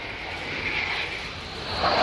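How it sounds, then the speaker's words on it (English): A Spanish Air Force Eurofighter Typhoon jet in dirty configuration with undercarriage down, performing a flying display at an airshow, roars steadily with a broad engine rush that swells louder toward the end as it turns in front of the crowd. "the Spanish Typhoon, and also in the so-called dirty configuration with undercarriage down"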